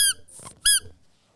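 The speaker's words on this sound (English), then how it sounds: "It's a squeaky duck." Rubber duck toy squeezed to squeak twice: two bright, loud, harmonic squeals with a short breathy wheeze between them, close up and alone.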